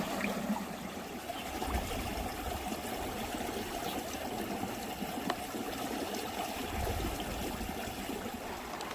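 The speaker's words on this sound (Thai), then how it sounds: "ก็มาล้างตรงนี้เลยนะคะ น้ำไหลแรงตลอดเลย" Strong running water pours steadily and continuously while ginkgo nuts are washed under it in Japan, a dense, close rushing splash with no voices.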